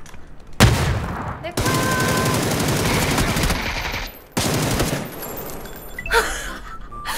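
Gunfire in a shooting video game, with long loud bursts of rapid automatic fire separated by short breaks, close and dominant, while someone shouts excitedly over it.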